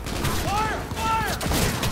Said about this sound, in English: Fire! Fire!